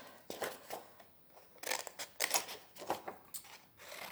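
Scissors make quick, close snips through paper during a children's craft activity, with a series of crisp irregular cuts that bunch together in the second half, fairly faint and with no talking.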